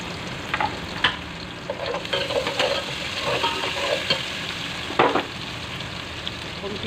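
Garlic frying in a pan for channa chaat, a low steady sizzle with intermittent stirring scrapes and taps, fairly quiet and close, no talking.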